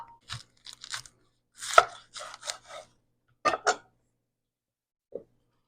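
A knife chops an onion on a board in short, crisp bursts of strokes, near and distinct, with quiet pauses between the runs and one last soft cut.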